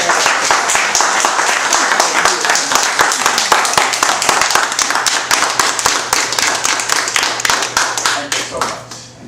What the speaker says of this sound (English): Let's first give him a round of applause.